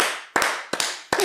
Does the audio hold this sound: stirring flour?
no